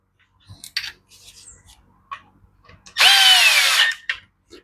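Power drill briefly driving a long screw into the case of a Husqvarna machine during coil replacement, a loud whirring burst of about a second after scattered clicks and handling noises close by.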